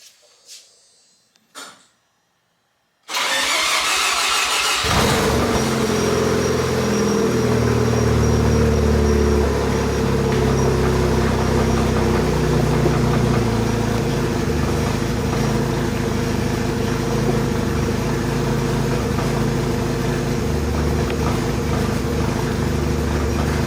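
A Mazda FD RX-7 rotary engine with a catless midpipe cold-starts after sitting a while: a few quiet clicks, brief cranking, then it catches and settles into a loud, steady rumbling idle that continues to the end.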